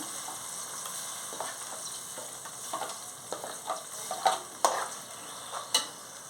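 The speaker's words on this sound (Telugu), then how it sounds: "బాగా పచ్చివాసన పోయిన దాకా వేయించుకోవాలి" Masala for a fish curry frying in a pan, a soft low sizzle with scattered ticks and sharper clinks of a spoon against the pan growing more frequent toward the end.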